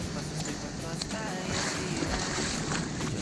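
Ocean waves in a bay in Baja California Sur, Mexico, as the tide rises: a steady broadband wash of surf and water noise with some wind, moderately faint and continuous, with a brief surge midway.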